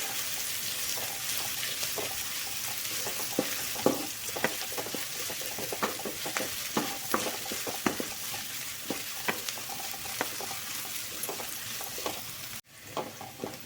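Chopped onions fry in hot oil for kothu roti, giving a steady close sizzle broken by frequent clicks and scrapes of stirring, with a brief dip near the end.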